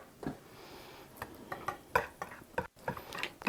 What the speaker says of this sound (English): going to whisk all of this together.